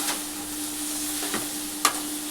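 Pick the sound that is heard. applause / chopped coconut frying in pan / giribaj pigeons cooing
chopped coconut frying in pan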